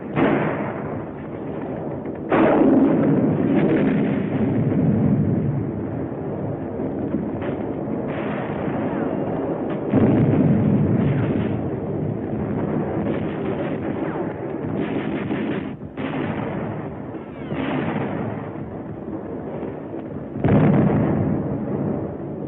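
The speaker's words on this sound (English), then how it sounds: "Here's the bazooka. It's a hand-carried rocket gun. Firing it takes close teamwork." A hand-carried bazooka rocket gun fires during the World War II battle for New Britain, amid a steady roar of heavy battle noise with repeated loud blasts and booms throughout.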